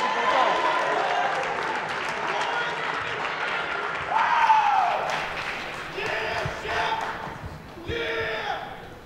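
A crowd applauds and cheers at a cadet boxing bout at West Point, steady clapping rising in loud swells, with an announcer speaking over the noise.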